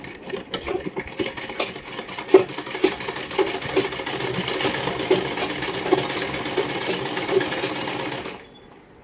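A sewing machine runs steadily while stitching a salwar seam, a fast continuous mechanical chatter lasting several seconds before stopping abruptly near the end.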